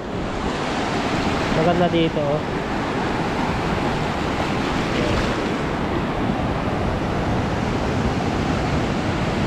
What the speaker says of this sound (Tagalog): Ang lakas ng alon, medyo high tide yata ngayon.